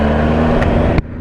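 2018 Triumph Speed Triple RS motorcycle being ridden, with a loud, close engine roar and wind rush that cut off abruptly near the end.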